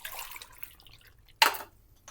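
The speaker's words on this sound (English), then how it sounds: "And then I'm going to add some water." Water is poured into a slow-cooker pot of beef stew with potatoes and diced carrots, a single short, close splash amid quiet kitchen background.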